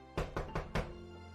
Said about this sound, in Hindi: उसने उसका दरवाजा खटखटाया